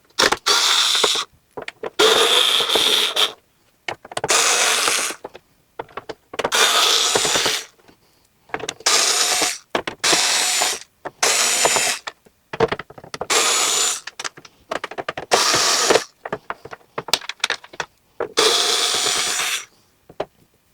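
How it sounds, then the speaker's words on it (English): Screws are backed out of a Toyota Tacoma grill in repeated bursts of about one to two seconds each, with short pauses between them. The bursts are loud and close, and no one speaks. "So we're going to take our Phillips head screwdriver and just start removing."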